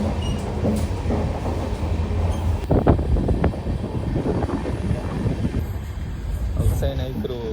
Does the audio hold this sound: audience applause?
no